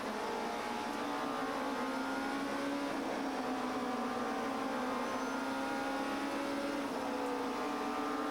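Onboard a touring race car in a 1997 STW sprint race at Wunstorf, the engine drones loud and steady from inside the cockpit, pitch shifting gradually as the car holds speed, with no talk.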